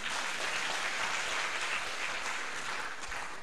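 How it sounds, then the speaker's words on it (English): Sustained applause from a lecture audience at a public lecture on African education, a steady close wash of clapping filling the whole stretch with no talk over it. "I think I should have a round of applause for that."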